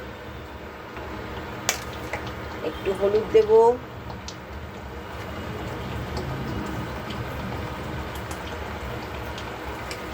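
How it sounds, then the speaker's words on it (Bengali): Ingredients fry in a pan with a little turmeric added, giving a steady soft sizzling hiss throughout. A voice talks over it, with a few brief clinks and stirring sounds near the start. "চলো এবার এখানে এটা একটুখানি ভাজা ভাজা হয়ে যাক।"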